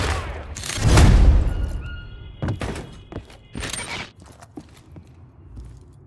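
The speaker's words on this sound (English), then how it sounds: "Flash grenade." Flash grenade going off in Call of Duty: Modern Warfare 3, a loud booming blast followed by a high ringing tone, then scattered thuds and gunfire-like knocks from a favela map.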